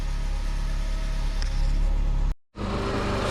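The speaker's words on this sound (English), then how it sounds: "So the engine's running." A Mercedes car engine running, a steady low idle hum with a brief dropout before it resumes, close and continuous with no talking.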